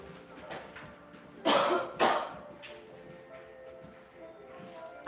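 Two sharp, loud coughs in quick succession from a person making old-fashioned marshmallows in a kitchen, followed by quieter throat noises and faint room sounds.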